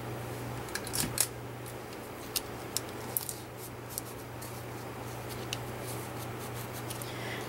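Scissors snip through a piece of tape during a craft project, giving a few sharp, close cuts and small handling clicks over a steady low hum, with no talking.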